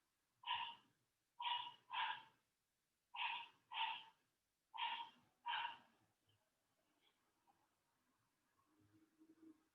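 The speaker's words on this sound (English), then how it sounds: "She's locked down in the bathroom. She's barking." A new puppy shut in a bathroom barks in muffled, regular pairs, distant and soft, then gives way to faint rustling and low hum.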